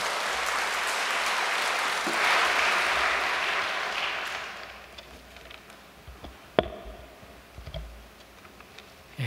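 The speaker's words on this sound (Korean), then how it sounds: "우리 처자님을 우리 반가운 마음으로 환영의 박수로 모시도록 하겠습니다" Welcoming applause from a church congregation at a Korean church ceremony, steady clapping from a crowd for several seconds that gradually fades out, followed by a few scattered claps and small knocks in a quiet hall.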